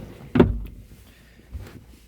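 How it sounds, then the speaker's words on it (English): A Honda FR-V car door is pushed shut during door trim upholstery repair, giving one loud solid thud followed by a softer second knock a moment later, close by. "Just need to close the door a little bit here."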